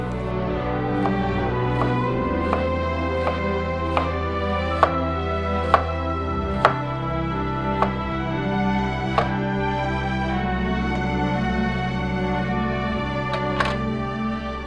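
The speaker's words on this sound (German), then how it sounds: "Und dann haben wir genug Zeit, die Zwiebeln in Streifen zu schneiden." Knife slicing onions into strips on a cutting board while making Flammkuchen, a series of sharp, fairly close cuts spaced irregularly over a steady background hum, with no talking.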